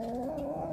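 A hen grumbles with a steady low, throaty murmur inside a backyard chicken house, close to the listener and continuous through the whole short moment, with no talking.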